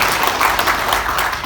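Audience applause at a Democratic Party regional meeting in Lampung, a dense steady clapping from a crowd filling the whole moment without talk.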